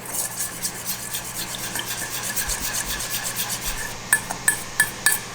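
A spoon stirs salad dressing with red chili flakes in a bowl, making a steady rhythmic scraping close by, ending in several sharper taps and clinks.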